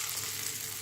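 Neyyappam batter poured into hot oil bubbles and fries with a steady, close hiss, quiet and continuous throughout.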